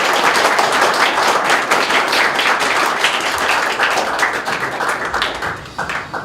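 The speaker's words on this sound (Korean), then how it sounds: "큰 박수 부탁드리겠습니다." Audience applause at a high school taekwondo poomsae team founding ceremony in Busan, dense sustained clapping from a crowd, loud and steady throughout, tapering slightly near the end.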